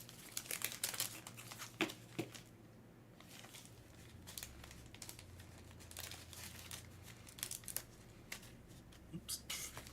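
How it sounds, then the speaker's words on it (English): A plastic bag crinkles and rustles in bursts of close, sharp crackles as it is handled during a live card-break stream, over a low background hum. "As usual, I'm being outsmarted by a plastic bag."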